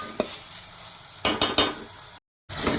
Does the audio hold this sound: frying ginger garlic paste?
yes